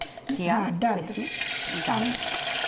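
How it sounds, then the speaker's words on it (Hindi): Water is poured into a cooking pot holding soaked rice in a home kitchen, a steady rushing splash lasting a couple of seconds while someone talks over the start. "तो साथ ही पानी डाल देना है"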